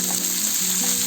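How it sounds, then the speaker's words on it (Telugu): Chopped onions and dry red chillies frying in oil for roasted rava upma, giving a continuous close sizzle with a faint low hum underneath and no voices. "మనము ఉల్లిపాయ ముక్కలు వేసుకున్నాము"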